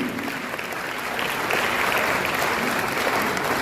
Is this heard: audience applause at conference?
yes